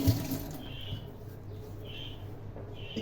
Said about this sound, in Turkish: Elimi tekrar yıkayayım.